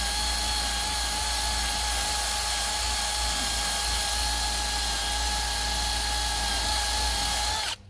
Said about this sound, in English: You use this wheel and you can just take the decal off like this.